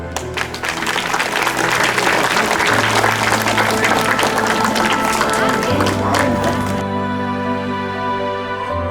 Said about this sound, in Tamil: மிக மிக சிறப்பாக விளையாடிய நிபிஷ்னா அந்த குழந்தைக்கு இப்பொழுது பாராட்டு தெரிவிக்கப்படுகிறது